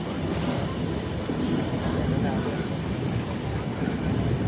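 Tirumala Express train running from Visakhapatnam to Kadapa, heard from inside a general coach as a steady, loud rumble of wheels and carriage noise that stays constant throughout, with no distinct speech.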